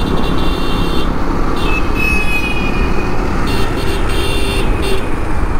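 A Bajaj Pulsar NS200 BS3 motorcycle engine runs with a steady, close rumble against busy traffic noise, with brief horn toots in the background, no talking.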